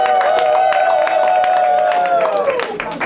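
A comedy club audience cheers and applauds for a comedian, a loud sustained wash of clapping and shouts with whoops rising over it, while a voice briefly sounds above the crowd.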